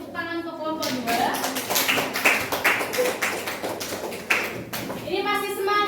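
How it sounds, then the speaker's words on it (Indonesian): Classroom applause for a student group after a presentation, several seconds of scattered, uneven clapping from many hands with children's voices around it, and sustained talk at the start and end. "Beri tepuk tangan untuk kelompok 2."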